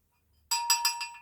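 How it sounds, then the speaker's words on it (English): A bell is struck, giving a bright, ringing metallic tone with several quick repeated strikes that sustain and fade slightly, close and clear after a brief quiet start. "Ring that bell."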